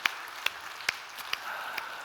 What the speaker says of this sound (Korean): 한 번 더 여러분 박수 부탁드립니다